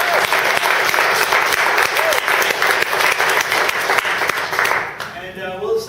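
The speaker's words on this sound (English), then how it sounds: "I just want to give a great big round of applause" A tech talk audience claps loudly for the speaker, steady dense applause that fades out near the end as a voice begins speaking.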